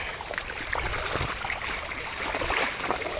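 Steady rushing water at a dam, a broad continuous wash with no pauses or voices.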